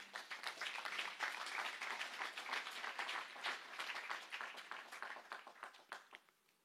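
A church congregation bursts into sustained applause and clapping, dense and steady for several seconds before thinning out into scattered claps and fading at the end.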